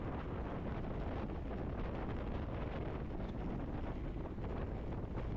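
Wind roars steadily across a bicycle-mounted camera microphone during a women's road race, a dense, loud rumble with no pauses and no other sounds coming through.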